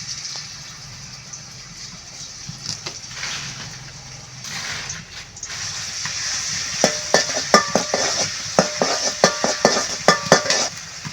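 Crushed garlic and onion hit hot oil in a pan for a village-style dried fish dish, a steady sizzle joined by a run of sharp metallic stirring clinks and scrapes growing louder toward the end.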